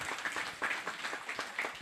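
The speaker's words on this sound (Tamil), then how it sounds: "ஒரு பெரிய கைத்தட்டு கொடுக்கலாம்" Audience applause at a Tamil literary festival's annual speech event, a steady dense patter of many hands lasting throughout, moderately loud and fairly close, with no talking over it.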